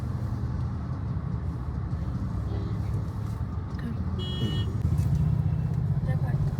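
Road traffic in Dombivli produces a continuous low rumble of passing cars and heavier vehicles, with the engine noise swelling slightly toward the end and muffled voices underneath.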